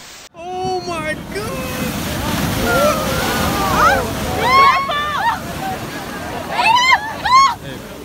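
Ocean surf washes and sloshes in a steady roar with wind buffeting the microphone, while several voices shout and squeal loudly over the waves.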